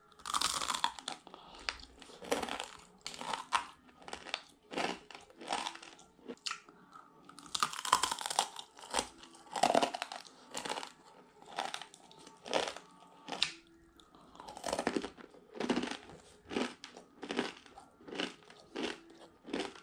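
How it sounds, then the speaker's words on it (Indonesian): Someone crunches a very crispy Balinese snack up close, producing a steady stream of sharp crackling bites and chewing with no talk. "Ini benar-benar renyah banget, crunchy."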